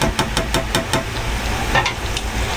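Menudo stirred in a pan, with a quick run of about five rhythmic scraping strokes over a steady low sizzle, then quieter, slower stirring.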